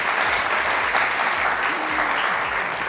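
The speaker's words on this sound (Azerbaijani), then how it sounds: "Bizim redaktorumuz Elvin Nasiri bir alqışlayaq." A studio audience claps for the show's editor on a live entertainment program, a dense and even burst of applause that holds steady and loud for a few seconds.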